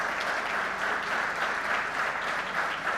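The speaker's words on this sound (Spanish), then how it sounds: "luego del aplauso de ustedes a Carolina Castro," Audience applause at a panel on development and production, dense steady clapping from a large crowd lasting throughout, fairly even in loudness.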